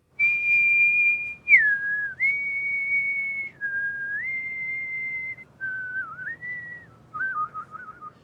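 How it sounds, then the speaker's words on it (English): A man whistles a slow, wavering tune alone, holding long clear notes that slide between pitches with short pauses, close and fairly quiet, with no talk. "Next, we have a bit of Gordon Cole whistling."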